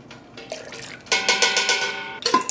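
Water rinsing out a graduated cylinder during yarn dyeing, a soft trickle at first, then a louder, steady splashing gush of running water with a brief clatter near the end.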